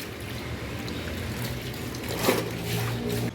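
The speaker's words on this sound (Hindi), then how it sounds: "माशाल्लाह पानी कितना तेज़ आ रहा है।" Water gushing strongly from a tap while clothes are being washed at home, a steady close rush and trickle with a brief louder splash near the end.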